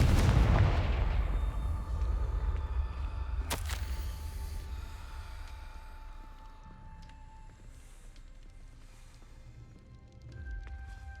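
A Confringo blasting curse explodes in the Hogwarts Legacy video game with a deep, loud boom and a sharp crack, followed by a long rumbling decay that fades over several seconds under faint ambient game sounds.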